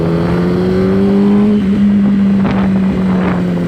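Yamaha R1 sport motorcycle engine downshifting through its slipper clutch, a loud steady drone that drops in pitch over a few seconds, with brief revving blips near the end and wind rushing across the microphone.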